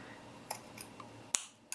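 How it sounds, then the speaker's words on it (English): Scissors snip paper scallops for a retro Christmas tag in a few quiet, separate crisp cuts, close and soft, with a sharper snap toward the end and no talking. "I am going to cut my little scallops."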